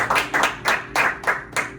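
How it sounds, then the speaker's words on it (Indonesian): A congregation at a Sunday church service claps in a steady rhythmic beat, about two to three claps per second, with no voices over it. "Tepuk tangan dulu yang dahsyat buat kita."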